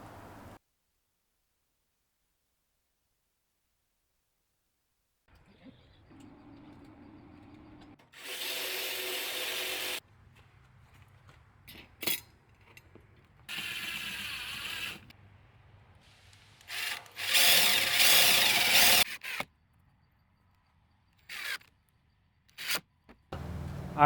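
A power tool bolts hinges onto a solar panel frame for a camper rooftop mount. Several loud, harsh bursts of a few seconds each stand apart, separated by quiet gaps and soft handling noises.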